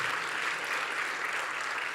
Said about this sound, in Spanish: Por favor, un aplauso para Jan.